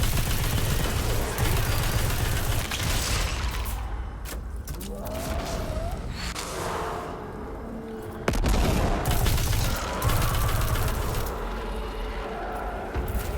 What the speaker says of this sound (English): the reason my grenade is sometimes different and it does a huge explosion like that